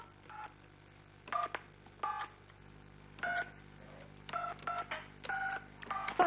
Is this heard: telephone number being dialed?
yes